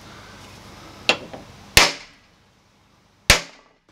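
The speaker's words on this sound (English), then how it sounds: "Let's see if we can drive this in with our plastic dead blow without making a big mess." A plastic dead blow hammer strikes a large socket to drive a new bearing into a noisy dust collector. Three sharp, separate knocks ring out up close, spaced unevenly, the middle one loudest, with quiet between them.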